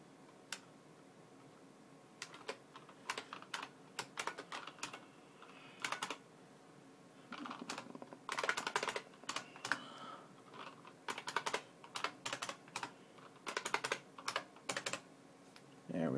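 Someone types a name on a computer keyboard in quick bursts of light clicking keystrokes with short pauses between them. The keys sound close and fairly quiet in a calm room, with a faint voice now and then.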